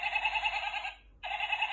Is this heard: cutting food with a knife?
no